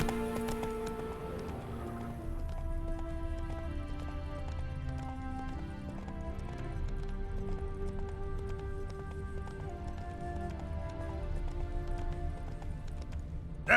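Roach, a horse in the Witcher 3 next-gen update on Xbox Series X, gallops with steady hoofbeats under a continuous music score that runs unbroken for the whole stretch.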